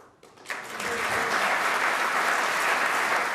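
Applause for a Liz Truss speech at the Conservative leadership result swells quickly from quiet into sustained clapping from a large audience, steady and unbroken.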